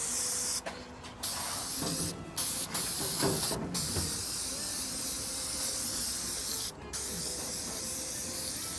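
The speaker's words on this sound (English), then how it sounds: "spray this with the Loctite rust neutralizer" Several sharp hissing bursts from an aerosol can of Loctite rust neutralizer, sprayed in short and longer pulses up close on a Checker Cab luggage rack, with quiet pauses between them.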